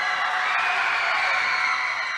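Basketball crowd at a high school game roaring steadily as a senior stands at the foul line for a one-and-one free throw, a loud sustained wall of cheering and whooping with no break.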